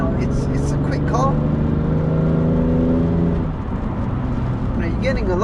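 From inside the cabin of a BMW F80 M3 Competition Pack, the engine and exhaust drone loudly and steadily, then ease off and settle partway through.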